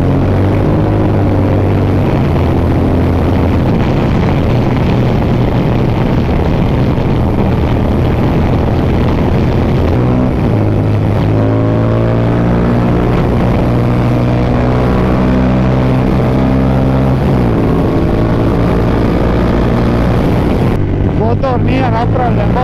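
A 2003 Yamaha TDM 900 two-cylinder motorcycle engine drones loudly while riding on an open road, its pitch rising and falling through gear changes, with heavy wind rush and a voice talking over it.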